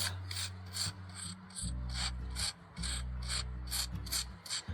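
A plastic-bristle brush scrubbing fuzzy fake snow off a wooden nativity stable, close rhythmic raspy strokes repeating about twice a second, alone without talk.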